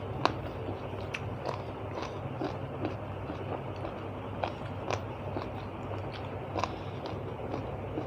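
Steady crunchy chewing of a crunchy giant squid tentacle salad with sweet pickled garlic, with repeated crisp bites and munching at close range against a soft background murmur.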